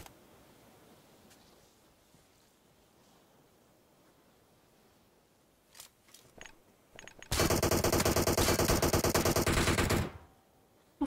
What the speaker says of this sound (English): Man has gunned me down for nothing.